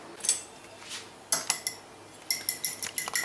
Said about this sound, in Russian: Так, взбиваю вот так яйца.